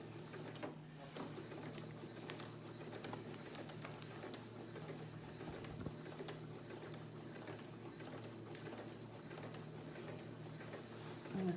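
A sewing machine stitches fabric for a face mask with a nose wire, a steady mechanical whirring hum running throughout, moderately quiet and unbroken, with nobody talking.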